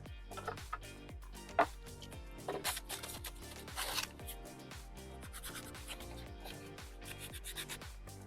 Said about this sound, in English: just sand on the edges so that it adheres to the two plastics together